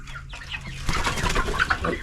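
Chickens in a grow-out pen cluck and chatter close by, a brief busy cluster of calls with a hint of wing flapping.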